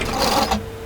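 Sewing machine stitching a quarter-inch seam on dress fabric, a brief close burst of rapid needle whirring that cuts off after about half a second.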